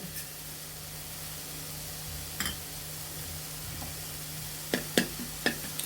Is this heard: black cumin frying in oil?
yes